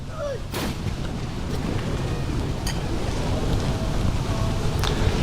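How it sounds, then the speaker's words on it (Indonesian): A cannon fired at the Sheikh Zayed Grand Mosque in Abu Dhabi to mark the first day of Ramadan, a single loud booming blast near the start, followed by outdoor rumble and a few later sharp reports. "dentuman meriam yang ditembakkan untuk menandai hari pertama"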